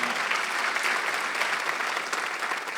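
A church congregation at a Korean Sunday worship service applauds together, a dense, even burst of clapping that holds steady throughout at moderate volume.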